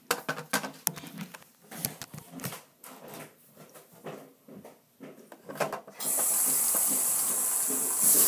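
Water runs from a tap into the cats' water bowl, a steady close hiss after some clattering handling noises.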